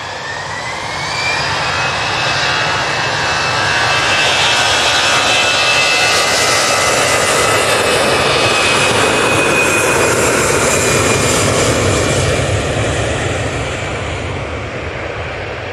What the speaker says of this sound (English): Here's an A320.